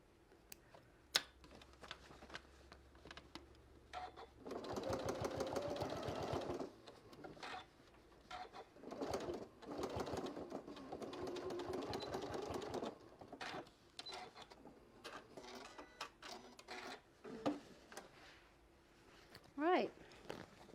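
A sewing machine top stitching a bucket hat runs in several long and short bursts, separated by pauses filled with faint handling noises and clicks.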